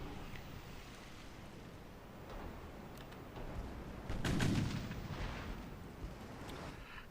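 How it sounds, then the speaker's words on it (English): A torpedo strikes a warship in the naval game Ultimate Admiral Dreadnoughts, a deep muffled boom swelling over a continuous rumbling battle ambience with scattered distant reports. "Torpedo impact."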